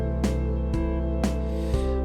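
Programmed drum track on a steady beat, with four evenly spaced hits about half a second apart over a sustained, droning low tone, loud and close with no voices.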